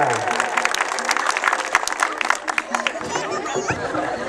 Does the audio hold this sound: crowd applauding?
yes